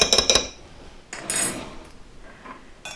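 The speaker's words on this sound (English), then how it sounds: "And I will stir it up." A spoon clanks and scrapes against a cooking pot while seasoned quinoa is stirred, in two short bursts of metallic knocks with quieter scraping between them, close by.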